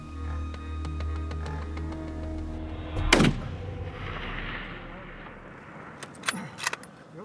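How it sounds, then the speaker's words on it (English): A rifle shot rings out at a bighorn ram in open hunting country, one sharp loud crack with a decaying echo over a steady background rumble, followed later by a few faint clicks and knocks. "so Tim takes another shot"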